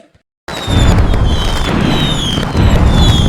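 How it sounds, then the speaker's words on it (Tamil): Firecrackers burst in a dense, continuous crackling barrage in a cartoon, starting abruptly after a brief silence and staying loud and close throughout, with faint whistling streaks above. "இப்பதான் வெடி சவுண்ட் கேக்கு?"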